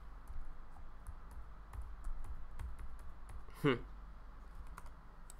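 Computer keyboard keys pressed in a quiet room: faint, scattered clicks at an irregular pace, with one slightly louder tap near the middle.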